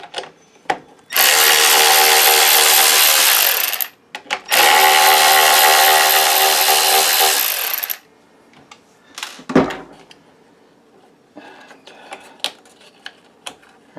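Power driver fitted with a Torx T15 bit spins out screws from a miter saw in two long, loud whirring runs, followed by clicks, clatter and handling of loose parts.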